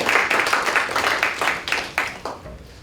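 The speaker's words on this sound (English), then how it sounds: "Clapping." Students at a student senate meeting break into a round of clapping right after a unanimous vote. The dense, fairly close applause holds steady at first, then thins into a few separate claps and fades.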